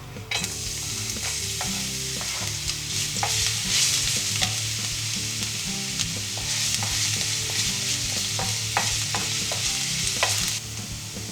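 Garlic fries in hot oil in a pan with a loud, close, continuous sizzle, scraped and stirred with frequent clicks and knocks of a utensil.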